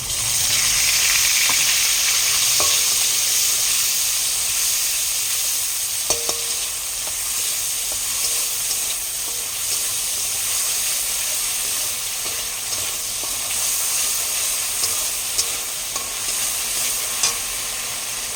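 Green chilli paste and ginger-garlic paste hit hot oil in a pan with tempered spices, crackling in a loud, continuous sizzle while a spoon stirs and scrapes, with occasional sharp clinks and no talking.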